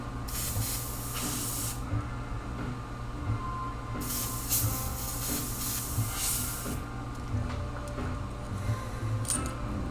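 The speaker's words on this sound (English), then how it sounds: "Something stuck in the airbrush." Airbrush spraying paint up close, a steady soft hiss swelling into louder spray bursts around the middle, over a constant low compressor hum with no talking.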